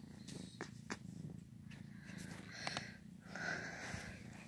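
A cat purrs close up, a soft rumbling low purr with breathy snuffles and small sniffing bursts, quiet and continuous.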